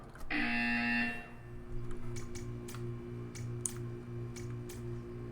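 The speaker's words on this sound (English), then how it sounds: "You will hear a buzzer." An electronic buzzer in the Portal video game sounds at close range as a loud tonal blast for about a second, then a steady hum continues under scattered short clicks.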